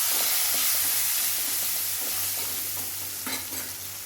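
Small onions and a dried red chili fry in a pan for tomato sambar, producing a loud, even sizzle up close with a few soft stirring scrapes toward the end.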